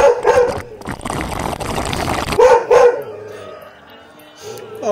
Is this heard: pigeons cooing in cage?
no